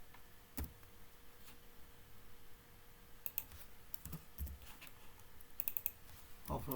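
Quiet computer keyboard typing while writing code, scattered bursts of soft clicking keystrokes separated by pauses, close and faint with no talking.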